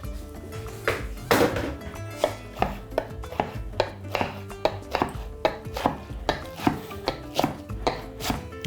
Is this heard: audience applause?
no